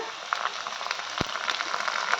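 Onions and spices fry in hot oil, a soft, steady sizzle with scattered crackles and small pops, heard close and fairly quiet.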